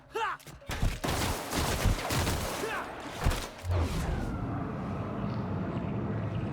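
Rapid bursts of gunfire from a weapon in The Outer Worlds, loud and close, with scattered shots early and a steady roar of game noise continuing afterward.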